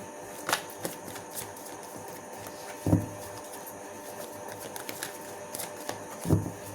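Tarot cards shuffled by hand, a run of soft riffling and slapping card sounds with a few louder thumps, close and alone.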